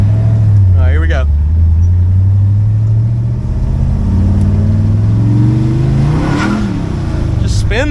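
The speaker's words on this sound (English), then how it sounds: "Just spin the tires." A car engine revving hard with tires spinning, a loud close rumble that rises and falls in pitch through several revs, with a voice speaking briefly over it.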